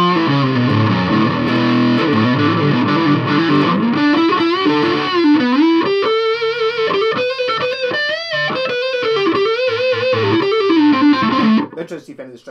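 Loud, continuous electric guitar through a distortion pedal on an Artisan Les Paul, playing sustained, gritty chords and bending lead notes, dense and saturated throughout before cutting off abruptly at the end.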